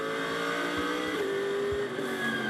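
GT race cars, a Ferrari 296 and a Mercedes AMG Evo 2, roar on track in continuous high engine tones that shift pitch as they rev, with a couple of low thumps underneath.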